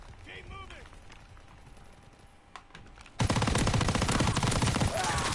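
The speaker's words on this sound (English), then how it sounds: "That was terrible shooting." Gunfire in the video game Call of Duty WW2: quieter battle noise and voices at first, then a sudden loud burst of rapid automatic fire that runs steadily for over two seconds.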